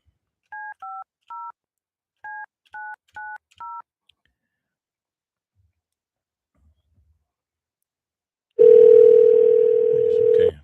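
Seven short two-tone telephone keypad beeps in two quick groups, followed after a pause by a loud, steady dial or ringback tone that runs to the end.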